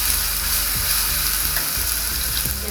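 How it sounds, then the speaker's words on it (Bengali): Onion and spices frying in a pan for chole: a steady, loud sizzle throughout, with a few soft clicks of stirring, no talking. "পেঁয়াজটাকে আরেকটু, মশলাটাকে আরেকটু ভেজে নিচ্ছি"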